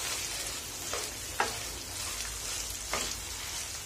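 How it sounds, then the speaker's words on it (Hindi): Minced meat fries in a pan over a medium gas flame with a steady crackling sizzle, and a few soft stirring scrapes come through. No one speaks. "गैस की फ्लेम को मीडियम रखा है और 3-4 मिनट अब इसको मैं अच्छे से भून लूंगी।"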